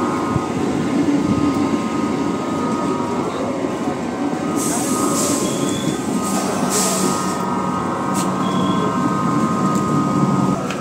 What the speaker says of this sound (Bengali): তো ট্রেন অলরেডি আমাদের চলে এসে